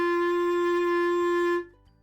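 A saxophone sustains a single steady note with a thin, whiny, buzzy tone, held evenly and fairly loud for about a second and a half before cutting off.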